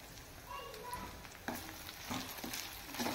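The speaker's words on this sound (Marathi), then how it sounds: "सर्व मसाले आपण व्यवस्थित तेलावर परतून घेऊया" Ground coriander and mixed spices sauté in hot oil for a green pea usal, a steady close sizzle and crackle with a few soft stirring scrapes and brief louder pops.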